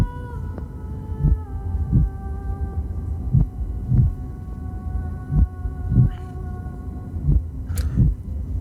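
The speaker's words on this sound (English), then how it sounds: "you all hear the heartbeat of the tree" A tree's heartbeat used as a tabletop game sound effect, deep slow throbbing beats repeating about every second over a sustained low hum and drone.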